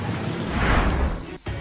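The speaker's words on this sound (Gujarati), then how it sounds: "કડાકા ભડાકા સાથે વરસાદ ત્રાટક્યો" Steady heavy rain hisses across the whole clip in Jafrabad, Amreli district, Gujarat, with a low rumbling swell in the middle like distant thunder and a brief dip near the end.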